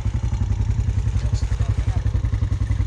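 Vehicle tires spin in deep mud on a mud ride, the engine revving in a loud, steady pulsing drone with rhythmic churning throughout, close by and without talk.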